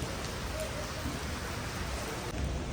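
Rain falls outside the Taj West hotel in Bangalore as a steady, fairly faint broadband hiss without pauses, alone with no talking.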